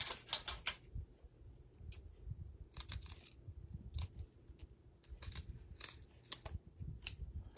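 Quiet, crisp snips of scissors come in short clusters, several cuts in a row, close by against a low background hum.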